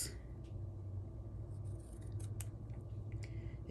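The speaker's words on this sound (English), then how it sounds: "I need some scissors because we're going to cut this." Scissors snipping through paper card for a stamped greeting card, a few close, quiet cuts with small crisp clicks of the blades over a soft background hum.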